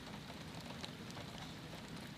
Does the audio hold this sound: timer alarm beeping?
no